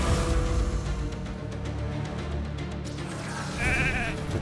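Sheep bleating from a sheep transformation skill in a live arena video game match, a clear bleat rising out of dense game music and effects near the end.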